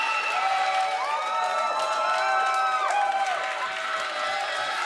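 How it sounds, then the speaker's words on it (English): An audience in a chess tournament room cheers and applauds as players enter: a constant roar of crowd noise with whoops and shouts rising over it, fairly loud and sustained throughout. "The crowd is going crazy."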